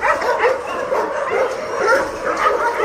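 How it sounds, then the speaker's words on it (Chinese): Several dogs at a dog base bark excitedly at an arriving Tibetan mastiff, a loud, close run of repeated yapping barks mixed with whimpers. "看见大藏獒来了都在狂叫。"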